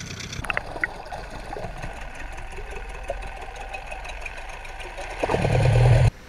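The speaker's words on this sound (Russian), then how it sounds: "Прогреваем двигатель и отправляемся в путь." An outboard boat motor warming up idles steadily with a rattling mechanical hum, growing louder and rougher just before it cuts off.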